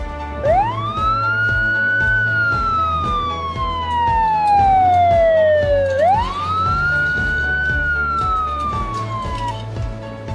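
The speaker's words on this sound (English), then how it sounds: "Police car." A police car siren wails in two long rising-and-falling sweeps, loud and close, over a low rhythmic thumping pulse.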